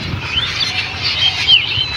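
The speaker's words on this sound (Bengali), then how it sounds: "পাখির কিচিরমিচির শব্দগুলো শুনতে ভালো লাগতেছে।" A flock of fesa birds chirps across an open, quiet village field, thin high calls scattered through two seconds at moderate distance with no other sound competing.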